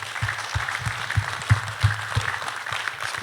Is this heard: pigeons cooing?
no